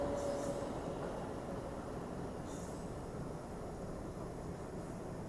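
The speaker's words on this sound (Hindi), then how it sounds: "पुश-पुल लोकोमोटिव के साथ चलने वाली भारत की एकमात्र राजधानी" Chennai Rajdhani express train hauled by push-pull locomotives running at speed, a steady, loud rolling rumble and rattle heard from on board, continuous for several seconds with no talking.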